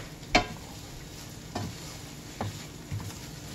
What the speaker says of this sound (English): Keep stirring it. You don't want it to burn on you.